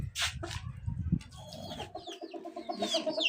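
A rooster gives a few close clucks and throaty calls, mixed with other bird chirps in the background.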